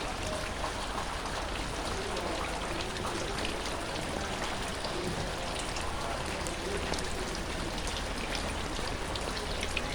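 Heavy monsoon rain in Chittagong city pours down in a constant, dense patter across the whole stretch, fairly soft in level, with no voices standing out.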